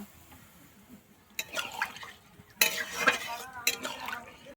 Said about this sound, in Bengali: এরপরে আমি দিয়ে দিচ্ছি জল